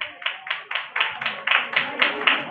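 A Sunday church congregation at a prayer house claps for a boy named Samuel, a clear, even beat of group hand claps at about four per second that carries on steadily for the whole stretch without talking.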